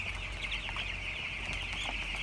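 Young chicks cheeping and chirping constantly in a farm brooder, a dense, continuous high chatter of many birds, fairly quiet and close.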